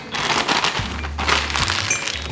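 Labneh cheese pushed and squeezed out of its package into a muffin mold, close-up crinkling and squelching of the plastic pack with a couple of soft thuds, no talking.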